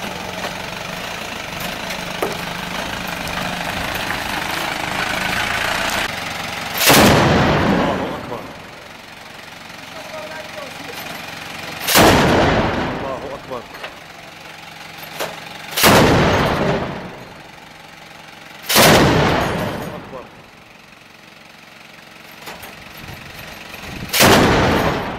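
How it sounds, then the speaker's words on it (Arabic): A heavy-caliber cannon fires repeatedly at a checkpoint in Daraa, Syria: five loud, booming blasts spaced several seconds apart, each with a rolling tail, over a continuous engine-like drone and background noise. "ابطال الجيش الحر يقومون بتجهيز المدفع عيار ثقيل لضرب احد الحواجز في درع البلد"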